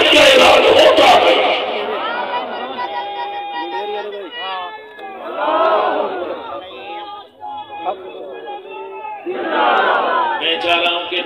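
A large crowd at a religious gathering shouts slogans in loud surging waves, voices roaring together with brief pauses between bursts, close and dense.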